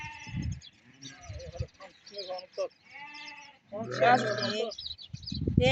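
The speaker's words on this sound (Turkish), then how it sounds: "Kuzulara bak. Bunlar ana baba." Sheep and lambs bleat at a livestock market in Barda, with harmonic calls scattered through the clip and one loud, close bleat near the middle, mixed with people talking nearby.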